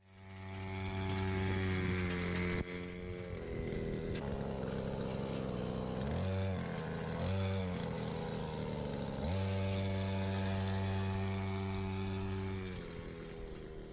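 A homemade go-kart powered by a brushcutter engine runs loud and close in a village test drive, a buzzing two-stroke whine that revs up and down, with brief drops in pitch.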